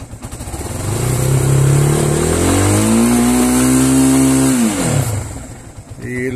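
An Italika Vortex 250 motorcycle engine fires up and revs loudly close by, the pitch climbing, holding high for a couple of seconds, then dropping back to a rough idle.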